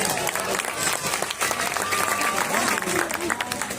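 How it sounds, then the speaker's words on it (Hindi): Concert audience applauding at a night concert in Pakistan, a dense steady patter of clapping that runs through the whole stretch, with crowd noise and some talk mixed in. "बहुत सी तालियां।"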